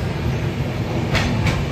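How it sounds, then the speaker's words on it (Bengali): A train pulling into Rampurhat Junction at the end of a 206-kilometre journey, a loud continuous rumble of wheels and carriages with a couple of brief clacks, close and without talk. "দুশো 6 কিলোমিটারের জার্নি শেষ করে আমাদের ট্রেন এখন রামপুরহাট জংশনে।"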